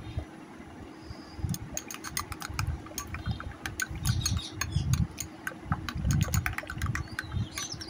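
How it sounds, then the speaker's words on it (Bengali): Two eggs are beaten in a bowl, heard as a quiet, rapid series of light clicking taps that continue in irregular bursts over a low background murmur. "এখন 2টা ডিম ভেঙে আমি ফেটে নেব"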